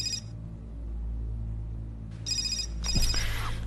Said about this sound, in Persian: اون تلفن رو جواب بده دیگه سیدکی.